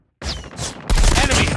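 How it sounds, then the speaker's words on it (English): Rapid automatic gunfire from a deployed sentry gun in Call of Duty Mobile, a loud close burst of overlapping shots that starts after a brief silence and intensifies into a sustained fusillade. "Sentry gun deployed."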